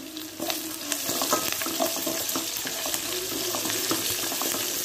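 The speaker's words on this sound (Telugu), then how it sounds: "దోరగా వచ్చే వరకు వేయించండి" Onion, carrot and cashew pieces fry in a pan for Bombay rava upma, giving a steady crackling sizzle with scraping spatula stirs and small clinks throughout, fairly close and with no voices.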